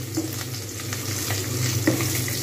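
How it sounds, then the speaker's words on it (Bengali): Pabda fish frying in oil in a pan, a steady close sizzle and crackle with scattered pops and light stirring, no voices. "মাছগুলোকে আরেক পিঠ ভালো করে ভেজে নিলাম উল্টে দিয়ে"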